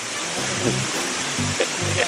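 Kitekite waterfall flowing during a forest hike, a steady broad rushing roar of falling water that fills the scene, close and loud, with a few faint voices underneath.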